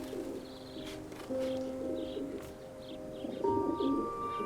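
Several pigeons coo in soft, overlapping repeated phrases, some nearer and louder than others, with a few faint higher chirps mixed in and no voices.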